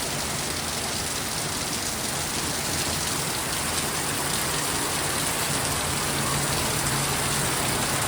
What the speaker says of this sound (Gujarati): અને અવાજ સોલિડ વરસાદ આવ્યો છે